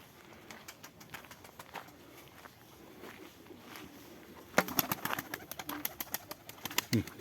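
Pigeons coo softly nearby while wings flutter and feet shuffle, the movement swelling louder toward the end.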